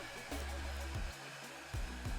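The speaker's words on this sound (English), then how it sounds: "I used a hairdryer in some places to speed things up" A hairdryer blows steadily up close over a thin white glue coating on a large model Warhammer Titan, its motor droning in a constant loud whir that briefly dips and surges as the airflow shifts.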